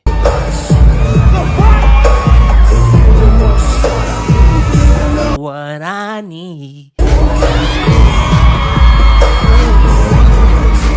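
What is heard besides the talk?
women screaming and cheering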